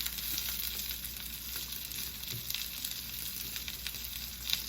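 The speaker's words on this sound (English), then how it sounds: "I'm going to start flipping these shrimp over." Coconut shrimp fry in a pan with a steady, close sizzling hiss that runs throughout, with small crackles and a slight pop near the end and no talking.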